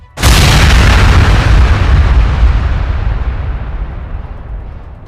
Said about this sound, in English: the fighter released the munition, resulting in a large explosion